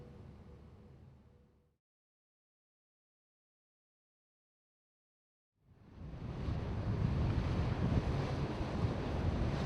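Brisk wind buffets the microphone on the Rhine River, a broad rushing roar that fades out, drops to silence, then returns louder and steady.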